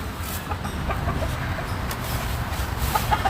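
Chickens cluck steadily and close by, a busy stream of short calls over a constant farmyard-like background with no talking.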